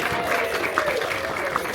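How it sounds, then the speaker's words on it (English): An audience at an animation class at Disney California Adventure gives a short burst of applause, brisk clapping that fills the brief moment. "Let's give Danny a great big round of applause"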